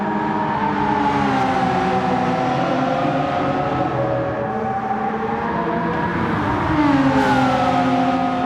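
McLaren MP4-12C engine in Gran Turismo 7, droning steadily and loudly at high revs throughout, with a slight pitch dip and a rising swell near the end, no talk.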